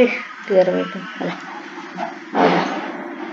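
Minecraft dog (wolf) giving short whimpering yips and barks amid game sounds, a few brief calls near the start and a louder burst toward the end, with speech also heard.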